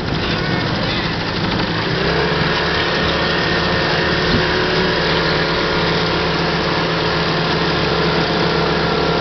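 A 1967 18-horsepower outboard engine drives a 12-foot boat at speed, a loud continuous motor roar with steady rushing water and wind, close and unbroken for the whole stretch.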